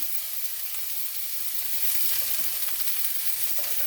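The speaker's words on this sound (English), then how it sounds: "I'm going to add my peppers in here." Garlic and peppers sautéing in a pan on an electric stove, a loud continuous close sizzle and crackle with a faint scrape of stirring, steady throughout with no talk.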